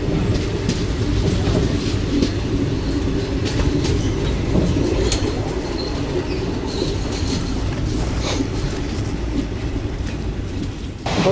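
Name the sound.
train running through dense forest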